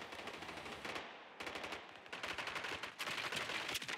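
Video game gunfire: rapid machine-gun bursts, loud and dense, come in several strings separated by short pauses, with no talking.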